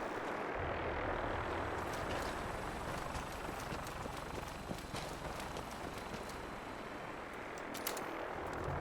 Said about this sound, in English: sounds like there's Brotherhood chopper active somewhere